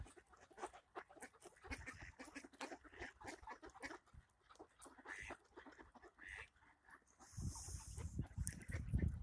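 Ducks quack in a busy, overlapping chorus of repeated calls, fairly close but soft overall, growing louder and denser toward the end with no speech.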